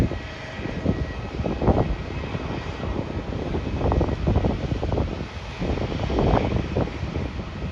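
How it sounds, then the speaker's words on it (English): Airliner in a colourful livery taxiing toward the gate, its engines giving a steady, moderately loud roar with wind buffeting the microphone throughout. "Patrick Airlines making its way towards the gate."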